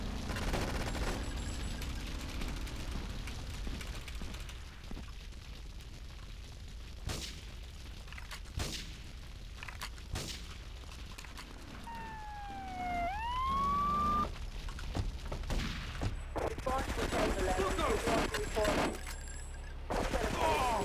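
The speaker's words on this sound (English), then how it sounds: "Shoot the gun!" Gunfire in Grand Theft Auto 3 comes as scattered sharp shots and short bursts over a wailing police siren and ambient game noise, with a voice talking at times.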